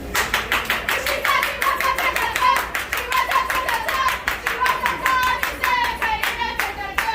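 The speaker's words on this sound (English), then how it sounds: "All right, while you're clapping, we're clapping." A group claps in steady unison rhythm for a birthday celebration at a Japanese restaurant, close and even, with voices singing or talking faintly underneath.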